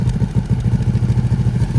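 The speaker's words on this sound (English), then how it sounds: "This thing's gonna sound mean. Just look at that exhaust system." A car with an Akrapovic exhaust system idles loud and close, a deep rhythmic burbling throb pulsing evenly without any talk, at a pub car meet.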